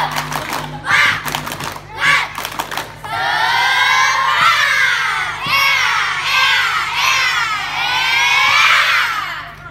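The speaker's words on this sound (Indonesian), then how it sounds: "Tepuk semangat." A group of children doing a rhythmic spirit clap and chant during an ice-breaking game: a burst of sharp claps opens, then loud, sustained shouted cheering by many young voices, close and energetic.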